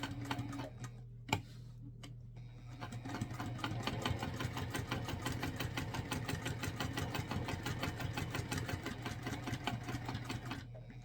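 A sewing machine stitches a clutch bag seam at a 1/8 inch allowance, running steadily with a rapid, even mechanical whir and ticking for most of the span after a brief start, alone and close.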